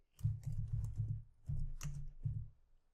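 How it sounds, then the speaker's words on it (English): Quick, close typing on a computer keyboard, a rapid cluster of soft key clicks followed by a few shorter bursts with brief pauses between. "I could type Task 2"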